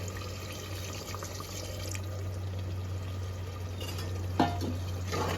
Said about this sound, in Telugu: దీంట్లోకి ఒక గ్లాస్ నీళ్లు పోసుకుందాం